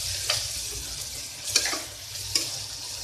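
Cumin, mustard seeds, mint, green chillies and onions frying in hot oil for mutton curry, a steady close sizzle with a few sharp pops and light stirring scrapes throughout.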